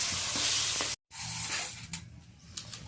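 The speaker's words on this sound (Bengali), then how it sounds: "বাকি মাছগুলো এইভাবে ভেজে নেব।" Pabda fish shallow-frying in a pan, a loud broad sizzle that cuts out briefly, then returns softer with scattered stirring clicks and pops; no talking.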